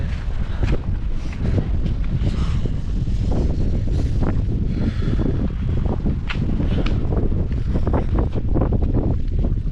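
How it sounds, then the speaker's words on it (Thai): Strong wind gusting across a mountain cliff edge at Pha Mo E Daeng in Khao Phra Wihan National Park, loud roaring buffets battering the microphone continuously with no voices. "ตอนนี้ลมแรงมากเลย"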